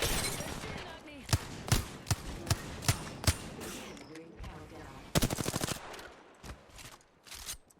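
Enemy gunfire in an Apex Legends fight: a string of sharp, evenly spaced single shots, then a rapid automatic burst and a few scattered later shots, loud against game noise with a voice talking underneath.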